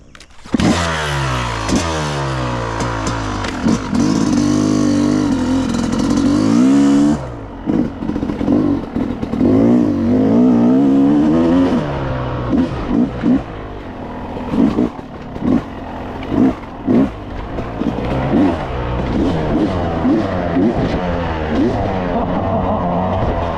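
Yamaha YZ250X dirt bike engine on a motocross track, loud and close, revving hard in rising and falling bursts, then settling into choppy throttle blips and idle, with no voices.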